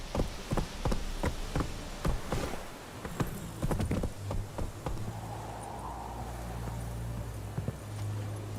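Geralt's horse Roach clip-clops at a steady trot in The Witcher 3, close and distinct hoofbeats for about four seconds, then the rhythm fades into a low ambient hum with buzzing insects.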